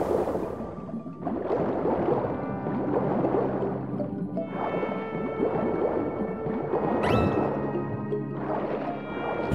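Underwater bubble sounds from the Lake Kingdom in Super Mario Odyssey on Switch come as repeated squishy, gurgling bursts with swelling watery tones, loud and clear with no talk.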